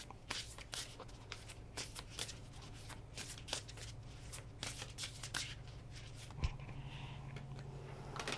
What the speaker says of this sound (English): I'm going to go ahead and pull some cards from Moonology.